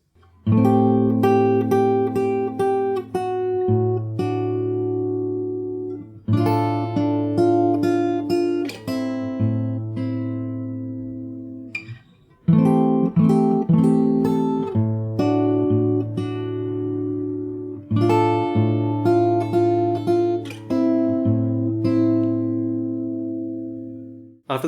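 Fingerstyle acoustic guitar plays the chorus of The Last of Us Part II main theme: plucked melody over sustained bass notes in steady phrases, alone and close, with a brief pause partway through.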